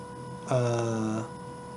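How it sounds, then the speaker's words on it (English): A DC motor running at a low speed of about 20 RPM under PI control gives a steady close hum, rising to a louder harmonic whine for under a second before settling back. "The motor is running at 20"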